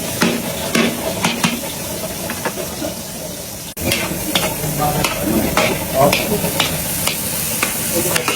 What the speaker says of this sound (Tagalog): Igisa muna namin sa maganda mantika. Bawang sibuyas luya.